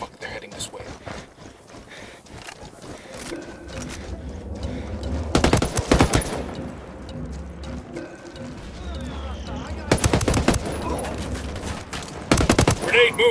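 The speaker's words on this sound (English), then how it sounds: "Shots fired" Automatic gunfire in the video game Ghost Recon Wildlands, with loud bursts of machine-gun fire coming in separate volleys among ongoing combat noise and voices talking.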